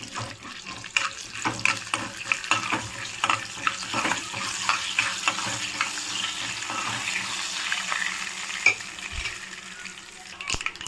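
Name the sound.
mustard seeds, lentils and cumin frying in oil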